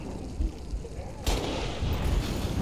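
Weapon fire in Halo Reach during a fight with Brutes: a sharp, loud shot cracks out amid continuous battle noise and rumbling, with further shots and combat clatter following.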